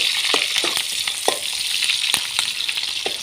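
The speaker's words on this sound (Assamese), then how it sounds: "ইয়া পিয়াজ দি দিছো তেলত" Onions fry in hot oil, a dense close sizzle running throughout, with a few sharp spoon taps and scrapes against the pan.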